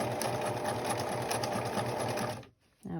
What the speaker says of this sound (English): And I'm going to go edge stitching right here on the edge.